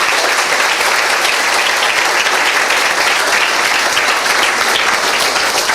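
A church congregation claps for Jesus, with dense, loud, sustained applause filling the room evenly from start to finish and no clear voices over it.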